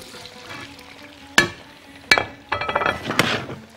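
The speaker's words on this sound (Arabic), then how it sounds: "ده السجق بتاعي، هحمره الاول في السمنه" Sausage browns in hot ghee in a pan, with a low sizzle beneath sharp clinks and stirring knocks of a utensil against the pan, building to busier scraping toward the end.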